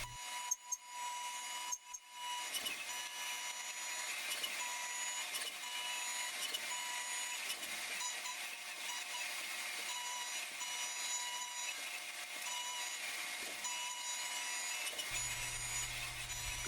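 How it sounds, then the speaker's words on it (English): A 1/2 inch end mill roughing out a bronze hand spinner fidget toy, a steady high-pitched machining whine and hiss that holds nearly constant for the whole stretch, close and fairly loud, after a few brief knocks at the start. "roughing it out with a 1/2 inch end mill to get the basic shape"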